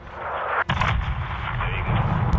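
A missile strike on a convoy in Call of Duty: Modern Warfare 2, heard as a loud, booming blast after a brief dip, then a sustained rumbling roar of gunfire and explosions.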